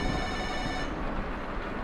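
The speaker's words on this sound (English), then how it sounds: "Oh, the telephone rings. You might have heard it." In the video game Kentucky Route Zero, a telephone bell rings steadily through the first second, then breaks off, leaving only a low rumbling background.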